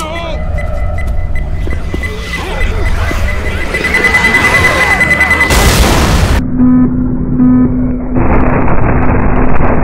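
A Molotov cocktail is thrown and bursts into flame in a cooperative zombie shooter, a loud whooshing blast rising over constant gunfire and game noise, with players talking throughout.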